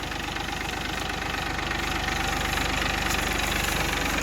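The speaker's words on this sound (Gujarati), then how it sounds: "ભરાઈ જ ગયો હવે નીકળે ટ્રેક્ટર" A diesel tractor engine chugs steadily with a low, rhythmic knocking, close and loud, running throughout with no voices, as the tractor pulls out at a sugarcane jaggery-making site.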